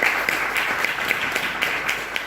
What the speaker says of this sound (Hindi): उनके लिए मैं जोरदार तालियां दोस्तों चाहूंगा